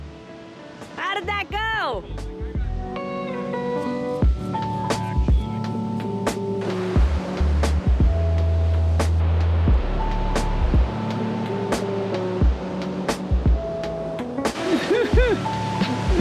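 Ocean surf washes up on a Mexican beach with a steady roar of breaking water, heard under music and a short spoken line.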